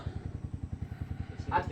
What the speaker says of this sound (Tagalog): Kaka-start dito sa motor sa carb na to.